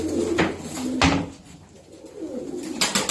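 Tumbler pigeons coo in a coop in Antalya, with several short cooing bursts near and moderately loud, separated by quieter gaps.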